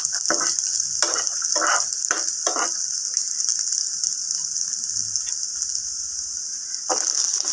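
Ingredients for garlic chutney frying in a pan, a bright continuous sizzling hiss with a few stirring scrapes early on, close and steady, no voices.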